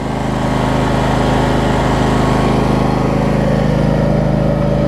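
A John Deere X300 lawn tractor engine runs steadily after a fuel pump replacement, with excess fuel in the mufflers, a loud, close, continuous drone without talk.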